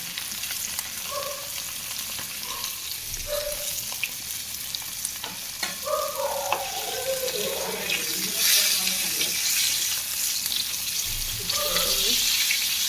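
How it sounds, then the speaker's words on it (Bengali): Fish frying in a pan in a home kitchen: a steady, loud sizzle runs throughout, with a voice speaking briefly over it in the middle. "মাছ ভাজি করছি"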